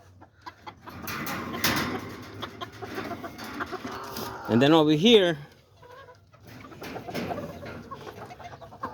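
Backyard chickens and a small rooster cluck near a cage, with scattered clucks and a short loud burst of rising, wavering calls midway, while someone talks at times.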